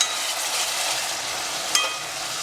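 Masala with yogurt frying for chicken biryani, a steady broadband sizzle with a faint stir or clink near the end, close and continuous, no talking.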